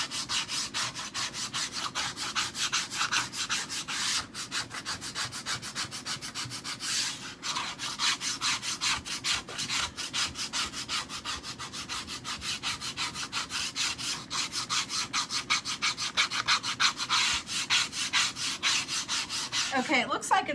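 A paste scraper drags steadily across a chalk-marked board, producing continuous close scraping and rubbing strokes with a fast, even rhythm for about twenty seconds, with no talking.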